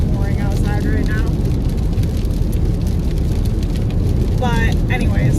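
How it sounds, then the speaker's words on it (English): Heavy rain pours outside with a dense, steady broadband roar, loud and continuous throughout, while a voice speaks intermittently over it. "Sorry about all the rain noise. It's kind of pouring outside right now."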